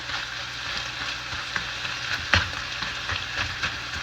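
Meat sauce sizzling in a pan as it cooks through, a steady broadband frying hiss with a few louder pops and spits, close and continuous with no talking.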